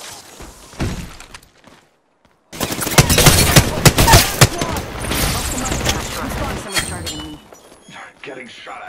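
Rapid gunfire and shattering impacts in the battle royale game Apex Legends, loud bursts crowding the clip after a brief quiet gap, with voice chat in the mix.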